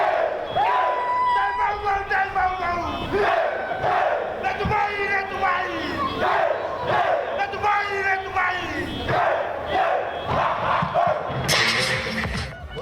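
A large outdoor crowd of over a thousand at Samoa's annual singing and dancing competition roars and shouts continuously, loud and dense, with rhythmic chanted bursts swelling throughout.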